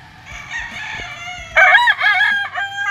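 Gamefowl roosters of Kelso and Harold Brown Grey lines crow at a large farm. Several loud, near crows overlap and stretch into drawn-out calls, with softer crowing from other birds behind them.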